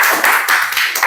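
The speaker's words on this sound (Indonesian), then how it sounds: "Tepuk tangan dulu untuk Mutia." A class of high school students claps for a classmate after her question in a religion lesson, a short burst of rapid, close, fairly loud hand claps.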